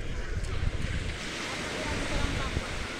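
Ocean waves wash onto the beach at Baler, Aurora with a broad, steady rush, mixed with wind buffeting the microphone and some faint surges, and no clear talk over it.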